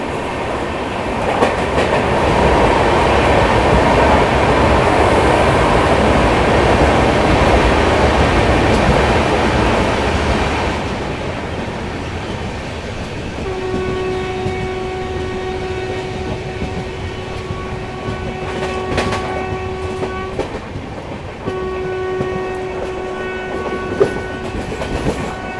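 A passenger express train running through the Panch Pipla ghat section on the Ratlam to Mumbai route, loud rumbling and rattling of wagons for about ten seconds, then quieter running with long sustained horn blasts.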